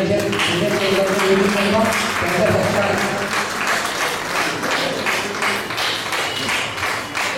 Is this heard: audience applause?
yes